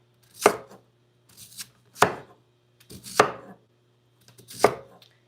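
A kitchen knife chops food on a cutting board in five separate, evenly spaced, crisp strikes, each a sharp close thud, over a low steady background hum.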